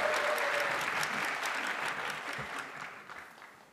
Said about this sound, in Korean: 자꾸 시간이 길어진다고 우리 김세종 국장이 그러시는데, 여러분들이 되게 박수와 연호를 너무 오래 하시기 때문에 빚어지는 현상임을 양지해 주시기 바랍니다.